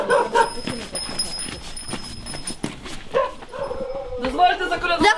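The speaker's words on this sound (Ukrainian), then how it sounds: "собака." Dog barking during a Ukrainian Christmas carolling visit at a home, with several short barks scattered through lively speech and voices nearby.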